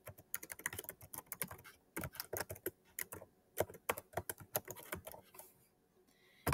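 Rapid typing on a computer keyboard, a document title being entered, with dense bursts of close, crisp key clicks separated by brief pauses and no speech.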